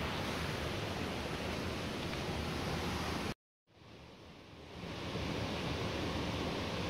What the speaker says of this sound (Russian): Вот такая вот горная река.